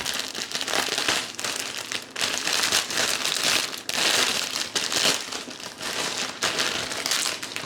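A plastic juice bag meant for coconut milk, carrot or other juices crinkles and rustles steadily in a kitchen, with dense, close crackling bursts that continue for several seconds and no talking.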